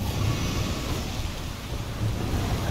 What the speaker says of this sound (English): For lightning to strike.